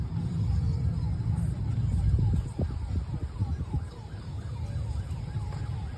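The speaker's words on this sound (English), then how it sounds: "You hear those sirens" Emergency vehicle sirens wail on a street, drifting steadily in the background under the rumble of passing traffic. A voice speaks faintly underneath.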